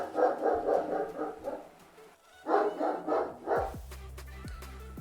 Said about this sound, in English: what the heck is he barking about?